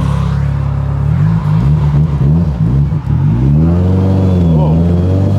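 Built Mitsubishi Evo 8 engine accelerating hard, a loud, steady rising engine note with gear-change dips, close inside the cabin, with people talking over it.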